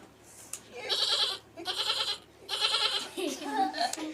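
A person imitates a goat, giving a few wavering, nasal bleats in quick succession, close and fairly loud.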